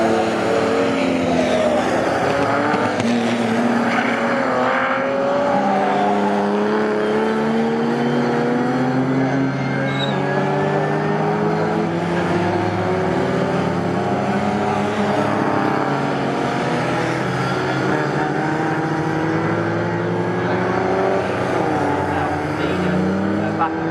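Pre-1963 and 1950s racing cars pass at speed at Snetterton, a steady roar of several engines with rising and falling pitches, under continuous commentary.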